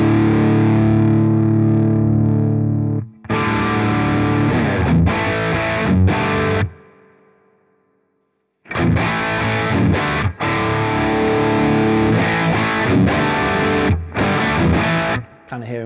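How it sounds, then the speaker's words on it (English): An electric guitar run through a V4 The Sheriff amp delivers a heavily saturated, Marshall-like crunch in loud chugging chords and riffs, cut by a brief pause near the middle before the riffing resumes. "we're kind of hearing that interaction between the master volume and the preamp like you would on an old"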